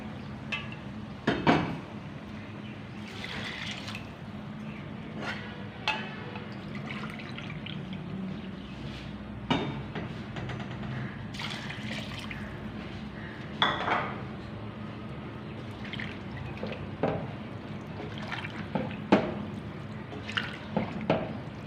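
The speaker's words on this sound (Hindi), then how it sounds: "यहाँ पे मैंने 2 कटोरी राइस लिए थे और 3 कटोरी पानी डालूँगी।" Water is poured into rice in a pot, with clinks of metal cookware and utensils scattered over a long stretch, plus trickling and dripping, near and moderately loud with little talk.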